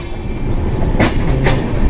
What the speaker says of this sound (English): this is an indication the train is going to enter Raigada within few minutes